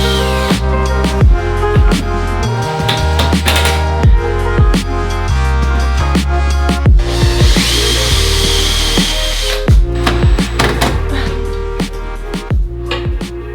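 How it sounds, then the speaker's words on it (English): A power drill bores pilot holes for the screws of a stair railing during a staircase renovation, with a continuous loud whirring drone and short pauses between bursts. "mark where I needed to drill pilot holes for the screws"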